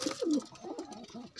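Pet pigeons from a kept pair coo nearby, giving one low, throaty coo followed by softer murmuring cooing.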